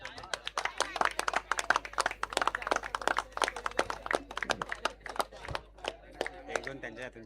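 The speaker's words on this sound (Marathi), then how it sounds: "जोरदार टाळ्या झाला पाहिजे." Scattered hand claps ring out at a cricket club prize distribution ceremony in Nigadi, an uneven patter of applause from a small crowd that rises and thins out over several seconds.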